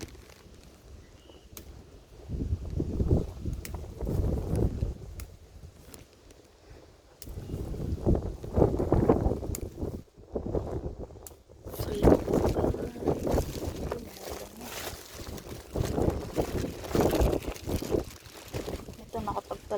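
Strong typhoon winds from Typhoon Saola at Signal 10 in Hong Kong roar in surging gusts that swell and fade, buffeting the microphone loudly with brief lulls between blasts.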